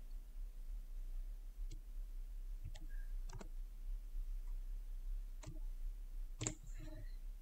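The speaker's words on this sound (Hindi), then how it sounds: "यहाँ पे कुछ लेटर टाइप कर लेते हैं हम" Letters are typed on a computer keyboard in a quiet room, coming as a handful of faint, irregularly spaced key clicks over a low steady hum, with no one speaking.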